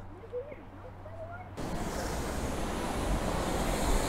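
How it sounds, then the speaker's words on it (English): Multnomah Falls waterfall roaring as a broad, steady rush of white noise that begins abruptly after a short quieter stretch with a voice, then continues loud and unbroken. "Multnomah Falls."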